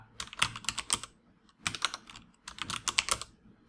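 A username typed on a computer keyboard, heard as three close bursts of rapid, crisp key clicks separated by short pauses, with no voices.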